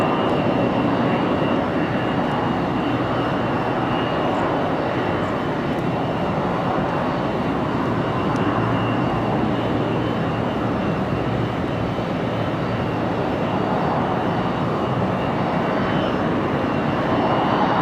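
A Delta jet departs Raleigh-Durham International bound for Tampa, its engines a loud, sustained, dense roar that fills the whole stretch without pause.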